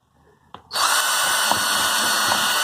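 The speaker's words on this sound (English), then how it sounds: "take your drill with your 8mm metal bit" A power drill fitted with an 8mm metal bit drills into plastic buckets; a click is followed by a loud, steady high-pitched whine that runs on to the end, close by.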